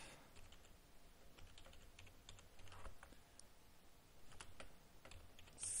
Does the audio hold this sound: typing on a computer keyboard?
yes